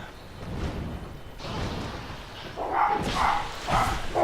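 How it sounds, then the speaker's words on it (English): A dog barks several times, a few sharp yaps in quick succession near the end, fairly close amid faint background noise. "Except for the dog barking."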